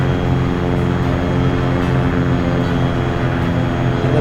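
Loud, constant drone of a Carenado Cessna 182Q's piston engine and propeller in a flight simulator game, holding an even, unbroken pitch throughout.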